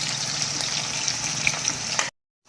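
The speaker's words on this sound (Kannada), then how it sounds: "ಇವಾಗ ಈರುಳ್ಳಿ ಫ್ರೈ ಆಗಿದೆ." Onions frying in oil in a pan for mint pulao give a steady, close, bright sizzling hiss that cuts off abruptly into silence near the end.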